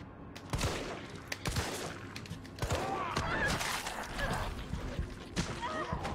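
Gunfire from the video game Resident Evil 3 comes in bursts of sharp game shots over a constant busy backdrop of game noise. It is fairly loud and continuous, with a voice briefly talking in places.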